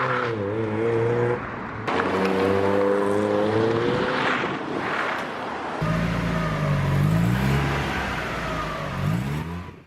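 A Mazda Miata drives hard, its engine note rising and falling through gear changes with clear revving harmonics, loud and close throughout with brief pauses between pulls.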